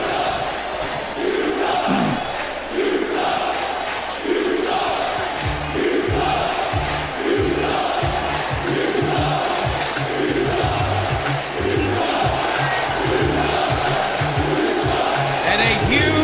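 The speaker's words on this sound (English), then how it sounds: "a huge crowd reaction here tonight for Too Cool Coito." A large wrestling crowd in Atlanta roars and cheers loudly and continuously throughout, with a thumping rhythmic beat joining beneath the noise about midway.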